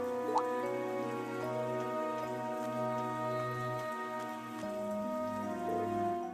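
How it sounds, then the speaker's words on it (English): Rain in the video game Trails of Cold Steel III falls as soft, quiet dripping and patter beneath sustained background music. "I didn't think it was raining this hard."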